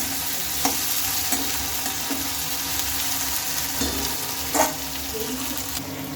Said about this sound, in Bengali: গোটা রসুনটাও এখন দিয়ে নিলাম আবার একটু ভালোভাবে নেড়ে চেড়ে নিচ্ছি